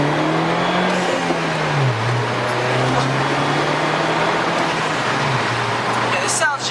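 A Mini Countryman S R60 with a straight-pipe exhaust and the muffler cut off drones steadily at high revs, loud and close, ending in a brief drop.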